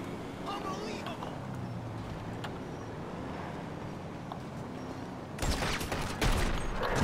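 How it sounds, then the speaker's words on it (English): Gunfire in GTA V: a rapid burst of shots erupts near the end over ambient game noise and engine rumble, while a voice talks over the scene. "how is he shooting me through the wall?"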